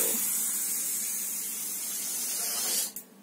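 A homemade balloon rocket launching as air rushes out of the balloon, a loud, steady hissing spray that holds for nearly three seconds before cutting off abruptly.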